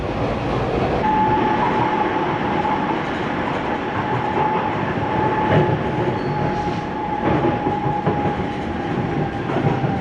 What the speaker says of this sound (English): let's get back on the train and back down to the Thames